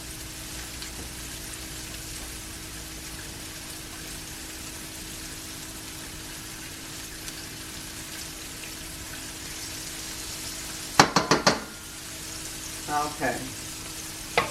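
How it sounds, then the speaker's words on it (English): Cubed pork steak pieces sizzle and crackle in hot frying oil, a steady close frying hiss with a brief clatter of utensils near the end and one short spoken word. "I'm going to try to get at least 3 of them in here to go ahead and start frying up"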